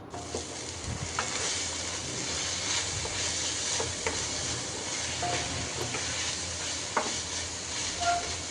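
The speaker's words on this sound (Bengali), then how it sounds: "এখন রসুন কুচি, শুকনো মরিচ দিয়ে একটু পেঁয়াজ দিব," Chopped garlic, dried chilli and onion sizzle steadily in hot oil for a Bengali tempering, a dense continuous hiss with faint scattered clicks of a spoon, no talk.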